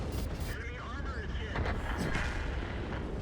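Tank cannon fire from a Strv 103B match in a tank video game, heard as dense booming, rumbling blasts filling the short stretch with a steady loud roar, with speech faintly underneath.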